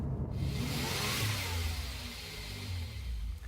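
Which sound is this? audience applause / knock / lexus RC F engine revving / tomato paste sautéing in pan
lexus RC F engine revving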